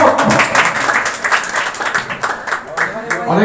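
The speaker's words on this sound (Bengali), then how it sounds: "কবির খানের জন্য সবাই একটা হাততালি হোক।" A crowd at a Magrahat press club Eid gathering with clothing and iftar distribution claps to honour a guest, a dense, fairly loud patter of applause running throughout with voices mixed in.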